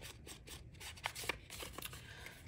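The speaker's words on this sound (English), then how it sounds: "I cut with my scissors, and that's okay." Scissors snip through cardstock in a quiet craft setting, a few soft rasping cuts with two brief sharper snips around the middle, faint and close.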